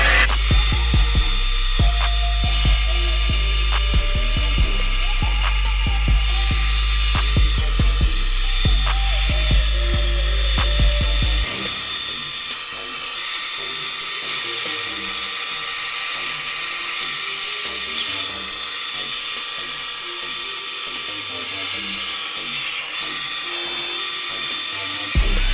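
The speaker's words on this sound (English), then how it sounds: "And you're gonna take your blow dryer on a cool setting" Blow dryer on a cool setting drying hair during a full lace wig install, a loud, constant whirring drone that fills the whole clip, with a shifting low rumble early on.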